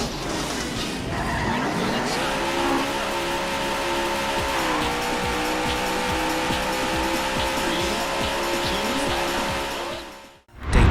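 Race cars in the Daytona USA arcade racing game, with roaring engines whose pitch climbs and holds alongside sustained tire squeal and skidding, loud and continuous before cutting off abruptly.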